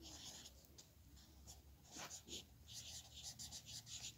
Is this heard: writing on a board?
yes